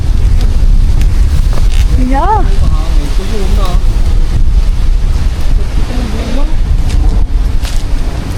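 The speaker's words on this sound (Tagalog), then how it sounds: "Kumapit ka at mahangin." Strong wind buffets the microphone outdoors during a vegetable and kamias harvest in Batangas, a steady loud roar throughout, with a person speaking briefly over it.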